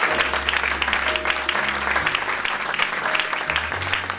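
Church congregation applauding steadily and loudly throughout, a dense, continuous clatter of many hands with a low hum underneath.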